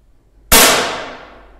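A single sharp metallic clang as an air rifle pellet strikes a steel running-pig target at a shooting range, loud and close, with a bright ringing tail that fades over about a second.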